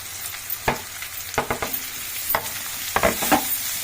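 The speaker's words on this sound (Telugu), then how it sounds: "ఇప్పుడు తరిగి పెట్టుకున్న ఉల్లిపాయ, ఉల్లిగడ్డ ఎక్కువ వేసుకుంటే బాగుంటుంది ఫ్రైలోకి." Chopped onions fry with pieces of bitter gourd in a pan, a close sizzle broken by clusters of sharp spoon scrapes and clatters as the mixture is stirred, with no talk.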